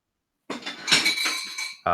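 Glass shatters abruptly after a moment of silence, sending out bright tinkling shards that ring on, then a second clatter of glass.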